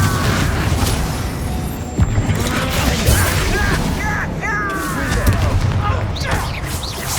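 An Incendio fire spell is cast in the game Hogwarts Legacy, its blasts and bursts rolling through a dense, continuous din of combat, with voices calling out over the noise.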